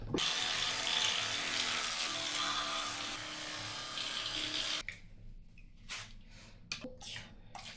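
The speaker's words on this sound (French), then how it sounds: "Brossage de dents." Teeth brushing at a bathroom sink with a tap running steadily and loudly for about five seconds, then shut off, leaving scattered brushing scrapes and small splashes.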